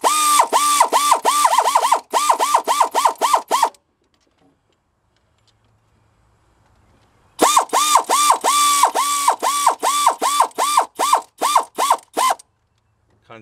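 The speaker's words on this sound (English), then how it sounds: "So I'm just going to use my air tool to snug them up." An air ratchet snugs up the small water pump bolts on a 2002-2009 GMC Envoy, letting out loud, rapid clicking bursts up close, with a quiet pause between runs.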